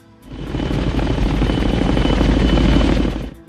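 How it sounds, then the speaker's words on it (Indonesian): A helicopter's loud rotor thrum rises in, holds steady with rhythmic chopping, then cuts away. "Sementara itu, helikopter sudah tiba."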